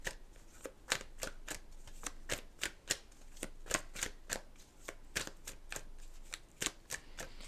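A deck of oracle-style cards shuffled by hand, a quiet series of sharp, regular flicks and riffles, evenly spaced across several seconds, with no talking.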